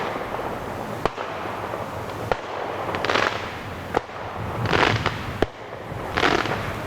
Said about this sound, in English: Oh, sorry about the fireworks.